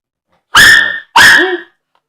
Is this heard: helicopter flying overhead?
no